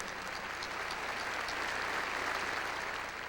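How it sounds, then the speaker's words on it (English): Sustained audience applause fills a high school graduation ceremony, a dense, even wash of many hands clapping at moderate distance with no speech over it. "Let's give him a big round of applause, please."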